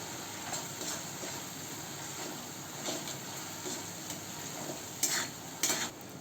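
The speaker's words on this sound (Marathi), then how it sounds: "तर टमाटे छान परतून घ्यायचे" Raw tomatoes with salt are sautéed in a pan for a potato curry, a soft steady sizzle with intermittent stirring scrapes and a couple of sharper clinks of the utensil against the pan near the end.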